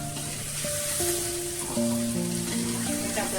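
Green peas and potatoes sizzle steadily in an oiled pan while being roasted for a quick curry, a soft, continuous frying hiss with faint stirring, no talking over it.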